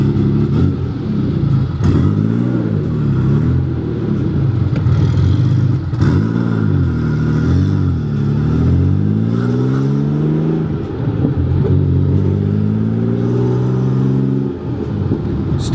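Old-school Porsche 911 fitted with an upgraded Garrett turbo drives continuously, its engine note rising and falling through repeated revving sweeps as it accelerates and shifts, loud and close throughout.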